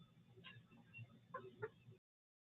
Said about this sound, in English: There's a bunch of chickens.